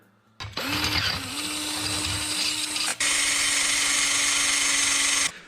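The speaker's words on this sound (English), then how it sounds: "let me drill a couple holes here." A power drill whirs steadily at close range, drilling bolt holes for a gas tank mount on a Predator 212/224 engine, spinning up, briefly pausing near the middle, then running again at a higher, sustained pitch until it stops.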